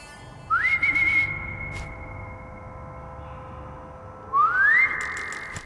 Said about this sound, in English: sit here and whistle them all over one by one